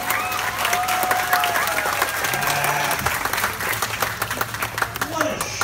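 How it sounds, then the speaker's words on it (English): Crowd claps and cheers at a trained bear show at Clark's Trading Post in Lincoln, New Hampshire, a lively outdoor patter beneath an announcer talking over a loudspeaker. "What do you mean you want some applause?"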